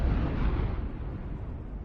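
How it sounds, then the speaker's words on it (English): An explosion in the Wuthering Waves video game, a loud sustained roar of blast noise filling the whole stretch and slowly fading, with no talk. "What caused the explosion?"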